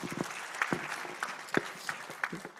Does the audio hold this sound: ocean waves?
no